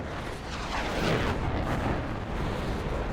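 An R3R air-to-air missile fired from a MiG-21 in a combat flight game strikes an enemy aircraft, producing a dense, loud, rumbling explosive burst that stays sustained and roaring throughout with no talk over it.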